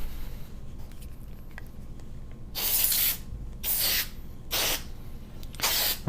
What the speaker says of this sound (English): For that, we're going to use our aerosol.